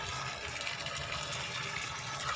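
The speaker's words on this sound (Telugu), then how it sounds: "మా బాబు వాటర్ కొడుతున్నాడు." A constant rushing hiss of water being sprayed over a sown farm field nearby, steady and fairly soft, with no talking.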